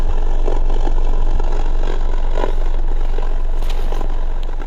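Geely Coolray exhaust resonating with a low, steady gurgling drone, loud and close, continuous throughout with a faint metallic clatter on top.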